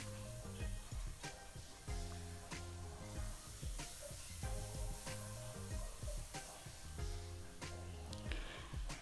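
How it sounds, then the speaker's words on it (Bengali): Cauliflower manchurian with spices being stirred in a pan: a soft, steady sizzle with repeated scraping strokes keeping a rough rhythm throughout, fairly quiet. "ভালো মতো একটু নেড়ে চেড়ে দেব"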